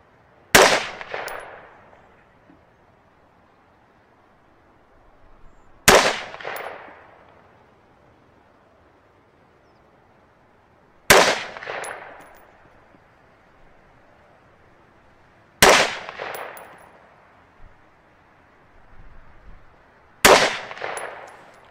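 Five gunshots fired at a sight-in target on a shooting range, each a sharp loud crack with a ringing decaying tail, spaced about five seconds apart, with no talking.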